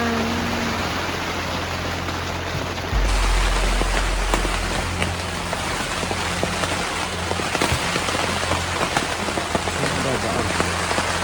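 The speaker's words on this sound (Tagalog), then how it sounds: "It's raining." Rain pours steadily at a mountain campsite in Atok, Benguet, a dense even hiss on surfaces close by that thickens after a few seconds, with a low rumble underneath.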